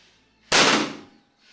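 A single sharp, loud shot from a large-plenum PCP air rifle cracks out, followed by a brief fading hiss, with quiet before and after.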